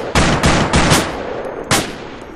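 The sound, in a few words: gunfire in a shooting video game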